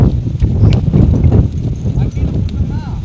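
Horse hooves clip-clop in a steady, close walking rhythm, mixed with people talking nearby.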